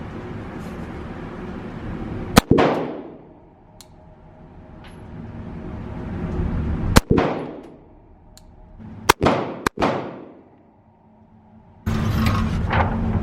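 A SIG Sauer P365 9mm pistol fires four sharp, loud reports at an outdoor range, spaced irregularly with a quick pair near the end, each shot trailing off in a short echo.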